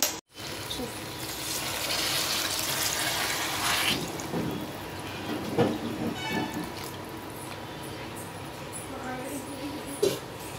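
Water pours over old rice in a cooking pot, two glasses of rice to four of water: a steady rushing splash for a few seconds, then softer trickles and occasional clinks.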